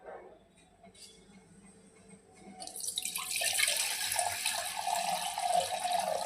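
Cold water from the fridge is poured for lemon sherbet: near-quiet at first, then a steady, fairly loud splashing stream begins partway through and keeps running.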